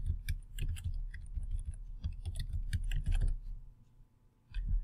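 Rapid typing on a computer keyboard, close clicking keystrokes in uneven bursts with a short pause before a final few taps.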